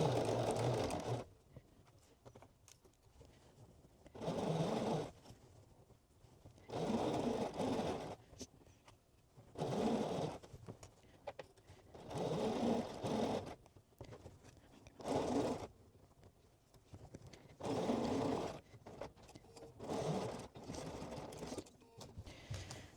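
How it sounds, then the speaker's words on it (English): A sewing machine stitches in the ditch on a hoodie. It runs in short bursts of a few seconds each with brief pauses between them, quiet and close. "So stitching in the ditch, it makes it kind of pretty much invisible from the right-hand side."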